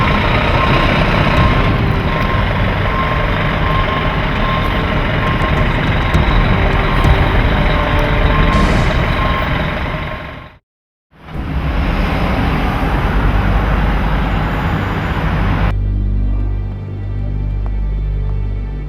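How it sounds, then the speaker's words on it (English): Fire engine Engine 2 of a Washington DC fire department returning to its station: a loud, continuous engine drone and road rush, cut by a brief drop to near silence, that later settles into a lower idle. "Engine 2 returns to the station."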